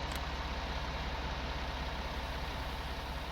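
A tractor engine idles in the Farm Sim game, a low, steady rumble with a regular throb, constant and moderately loud, with no voices.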